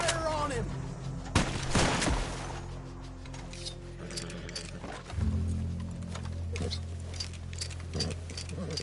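Gunfire in the Western game Red Dead Redemption 2 cracks in sharp bursts and scattered single shots over a droning background, with voices talking at times between the shots.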